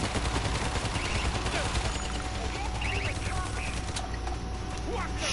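Dense, continuous gunfire with explosive ammunition in the zombie shooter game World War Z, rapid overlapping shots and blasts filling the whole stretch at a steady loud level.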